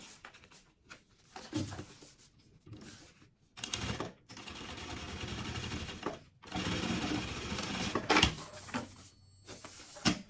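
A sewing machine runs a safety seam on a sublimated maternity kit piece in a few uneven bursts of stitching with short gaps, close and fairly loud, with no voices.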